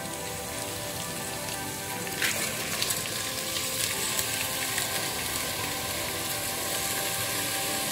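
Steady, even sizzle of ginger and garlic sautéing in a hot pan for coconut milk rice, a continuous dense crackle with faint scraping partway through.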